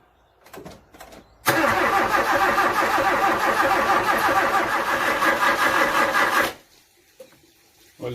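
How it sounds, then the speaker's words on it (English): A 1986 Toyota Corolla KE70, abandoned for years, cranks on its starter for about five seconds in a loud, continuous, close-up churning whir that never catches. Brief clicks come before it and quiet follows. "there's definitely a good battery and a good starter on this truck anyway"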